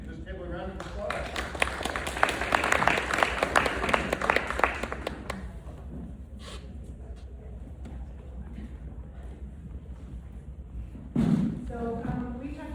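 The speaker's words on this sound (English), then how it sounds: "Let's give this table a round of applause." An audience at a police community safety meeting gives a round of applause, a loud burst of clapping lasting several seconds that fades into room noise, followed by a speaker talking.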